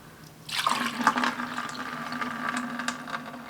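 Homemade ash lye poured through a cloth filter, a continuous splashing, trickling pour that starts abruptly and keeps running, close and alone.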